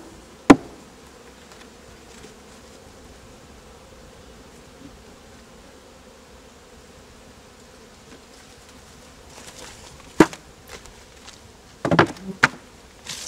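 Honey bees from a small garden hive hum in a low, steady buzz throughout, with a few sharp knocks and clatters near the start and toward the end as the hive frames are handled.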